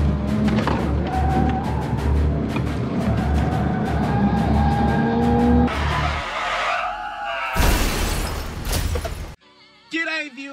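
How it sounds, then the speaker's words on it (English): Engine roar and road noise from a hatchback on a race track give way to a sharp tyre squeal as brakes lock up, followed by a burst of harsh scraping noise. "big brake lockup"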